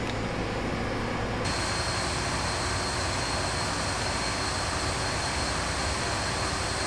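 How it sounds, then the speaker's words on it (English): Lufthansa Airbus A319 taking off in the Flight Simulator X game, a loud, dense, unbroken jet engine roar that swells slightly and holds steady at full power, with no talk over it. "we'll watch as the Lufthansa takes off actually"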